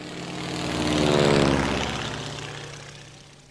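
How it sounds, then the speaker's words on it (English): A propeller airplane passes overhead outdoors, its steady engine drone swelling to a broad peak midway then slowly fading, heard alone without talk. "Also, there's a plane going on, so I'm gonna stop talking."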